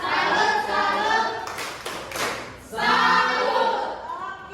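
A group claps in a rhythmic salute pattern, with bursts of brisk clapping separated by a short pause and a few scattered taps, close and lively.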